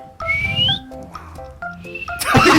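A person gives a short whistle of rising tone, clear and close, with bursts of other noise and a rush of sound at the end.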